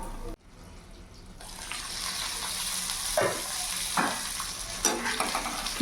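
Okra and potatoes tossed together in a frying pan, a steady close sizzle with several scraping stirs of the spatula and a brief quiet gap near the start, no voices.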